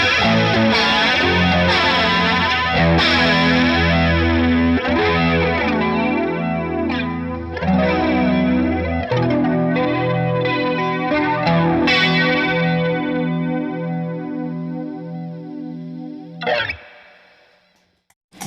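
Distorted electric guitar playing sustained chords through an Electric Mistress flanger pedal, a sweeping, jet-like whoosh rising and falling throughout before the sound cuts off.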